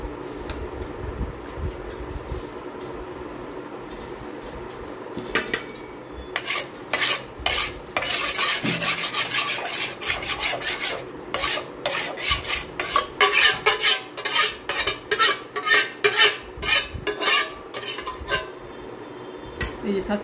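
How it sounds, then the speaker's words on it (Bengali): Ghee is spread around the inside of a saucepan, heard as a long series of rhythmic metallic scrapes and rubs that begin sparse and grow faster and stronger, close by and with no talking. "এই সসপ্যানের মধ্যে আমি একটু সামান্য ঘি দিয়ে নিচ্ছি"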